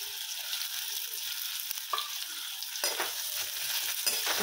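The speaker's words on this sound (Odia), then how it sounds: "ଆଉ ମୁଁ ଏଇଟା ପିଆଜ ଭାଜିଛି" Small onions, added after cumin seeds, fry in a pan with a steady hissing sizzle and occasional stirring knocks, close and unaccompanied by speech.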